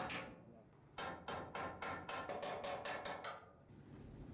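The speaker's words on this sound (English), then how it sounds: "And then you have to use a welding hammer" About a dozen sharp metallic welding hammer knocks on rusted steel of a 1949 Spartan Manor trailer chassis, in quick succession, close and crisp, then trailing off into quiet background noise.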